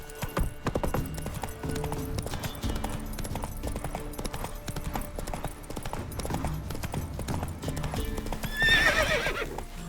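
Geralt's horse Roach gallops in The Witcher 3, hooves pounding in a fast, loud rhythm, with a sharp, bright neigh rising near the end.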